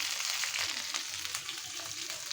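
Chicken pieces frying in a pan with fried onions, giving a close, even crackling sizzle with light spattering throughout and no voices.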